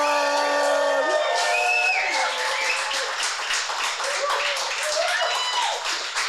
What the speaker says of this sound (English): That's a good cheer, that is.